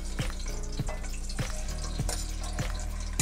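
Fresh garlic cloves and a large onion frying in hot grease for Southern collard greens, a dense close sizzle with sharp pops and stirring clatters recurring about every half second, no voices.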